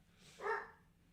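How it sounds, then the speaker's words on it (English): A single dog bark from another room rises briefly and fades, muffled and fairly quiet. "Sorry to hear my dog barking out there."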